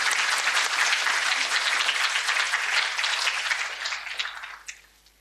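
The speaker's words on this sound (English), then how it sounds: "Clap again, please, for Ibu Sri Mulyani." Loud, dense applause from an audience at a formal event honoring a former finance minister, sustained for several seconds before thinning out and fading near the end; no voices are heard over it.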